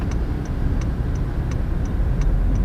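A car's turn signal ticks in an even rhythm, about three clicks per second, against the steady low rumble of the cabin and road noise.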